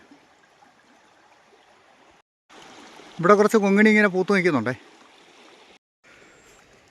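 A small stream in Idukki babbles quietly and steadily in the background, and a person talks over it for a couple of seconds.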